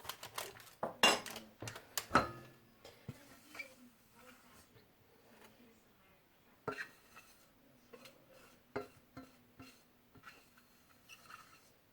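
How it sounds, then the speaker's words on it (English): A spoon scraped against a saucepan holding leftover chocolate and caramel, giving quiet metallic clinks and scrapes in irregular bursts, louder at the start and then sparse and faint, with soft speech underneath. "I'm just going to scrape the spoon first"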